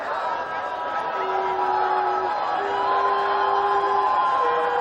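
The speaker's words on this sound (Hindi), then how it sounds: "ये जो हुजूम यहाँ जमा है" A large crowd gathered along an Amit Shah road show route in Bolpur makes a steady, moderately loud murmur with scattered shouts and a long sustained tone running underneath.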